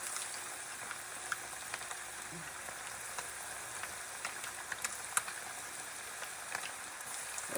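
Buffalo fish fillets fry in hot oil in an electric skillet outdoors, giving a steady, even sizzle with soft scattered pops throughout and no talking.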